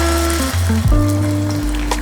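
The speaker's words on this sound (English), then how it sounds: "let's start this sausage patty" A sausage patty sizzles loudly in a pan at medium-high heat, a steady frying hiss under a low hum, with a brief knock near the middle.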